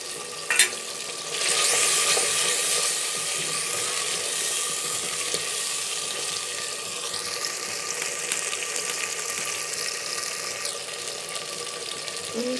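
Green chilies fry with ridge gourd and potatoes in a pan, giving a steady, close hissing sizzle with occasional stirring scrapes and small pops throughout, without any voices.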